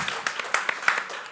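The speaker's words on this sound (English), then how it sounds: "So applause for that as well." Scattered applause from a small audience at an evening community event in Estonia, a few uneven claps rising and falling over a brief moment, with a faint murmur of voices around them.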